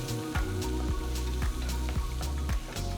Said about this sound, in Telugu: చిన్నగా తరిగిన 2 ఉల్లిపాయలు వేస్తున్నాను. ఉల్లిపాయలు మంచి గోల్డెన్ బ్రౌన్ రంగులోకి మారేంత వరకు వేయించాలి.